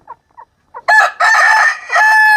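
A rooster crows loudly and close by, a few short clucks leading into a long drawn-out cock-a-doodle-doo in two sustained parts, with no talking.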